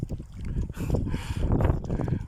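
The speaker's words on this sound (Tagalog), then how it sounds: "Mahangin lang dito" Gusty wind buffets outdoors by a lake, with low rumbling bursts and a brief hiss, fairly loud and close throughout.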